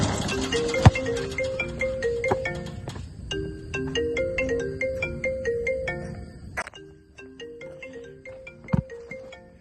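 A phone ringtone plays a repeating melodic electronic tune, steady and clear, with no voices.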